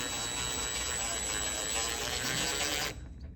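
Power screwdriver driving a screw into a wall anchor while hanging canvas wall art, a steady close buzzing whir that runs for about three seconds and then stops.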